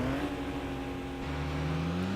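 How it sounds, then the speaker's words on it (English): A car engine in the Midnight Club 2 racing video game pulls away from a red light, its steady, oddly tonal drone rising in pitch as it accelerates. "and a really interesting engine noise,"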